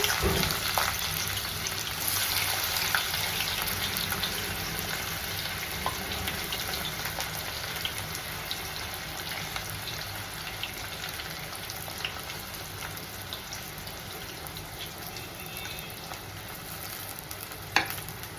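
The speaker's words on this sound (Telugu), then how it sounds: "జస్ట్ దీంట్లో ఇప్పుడు ఆనియన్స్ వేసేసుకుంటామండి. ఆయిల్ బాగా హీట్ అయింది." Onions frying in well-heated oil, giving a continuous, fairly loud sizzle with faint stirring and a sharp tap near the end, with no talking.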